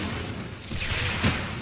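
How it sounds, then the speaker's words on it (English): A guided rocket launches from a rifle's secondary weapon in the PSVR shooter Farpoint, a single sudden booming burst near the end over a steady rumbling game backdrop. "Press the highlighted button to fire the secondary weapon"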